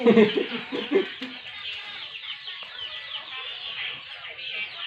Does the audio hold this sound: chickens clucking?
yes